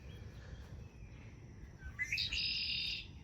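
A red-winged blackbird in a summer garden in Maryland gives a bright, buzzy call late in the clip, loud and close, over a steady low background rumble.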